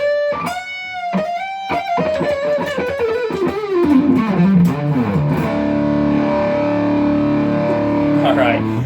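Gretsch Streamliner Cateye center-block electric guitar with the coil split switched off, playing a distorted run of notes that slides downward, then holds ringing sustained chords through an effects unit.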